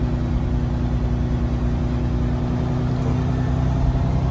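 Inside a truck cab on the road, a steady low engine drone and road rumble hold at an even level throughout, with no voices.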